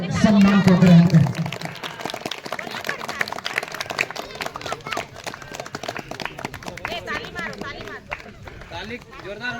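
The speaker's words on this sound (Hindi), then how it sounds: "ताली जोरदार होना चाहिए।" An audience at a Santali farewell ceremony in Rourkela claps steadily, with loud applause that continues throughout, while a voice speaks over it at the start and a crowd murmurs underneath.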